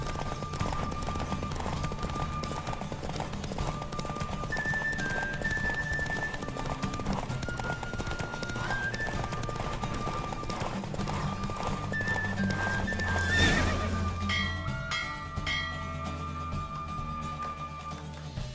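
A horse gallops in The Witcher 3: Wild Hunt, steady clip-clop hoofbeats running through a race with an occasional whinny, game music and faint effects underneath and a sharp swell near the end.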